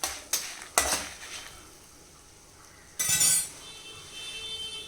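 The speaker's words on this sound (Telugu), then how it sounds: "ఇంగువని వేసుకొని ఈ ఆయిల్లో ఈ విధంగా కలుపుకొని దూరగా వేయించుకోవాలి." Asafoetida and turmeric are stirred in hot oil in a pan, with a few metallic clinks of the spoon, a brief louder stir-scrape, and a faint steady sizzle underneath.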